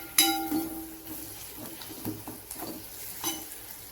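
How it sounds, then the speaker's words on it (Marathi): Tomatoes sauté in hot oil with fried spices in a home kitchen pan, giving a soft, steady sizzle with a few scraping stirs and light clinks of a utensil, close and fairly quiet. "आता टोमॅटो टाकते। टोमॅटो चांगला परतायचा मऊ होईपर्यंत।"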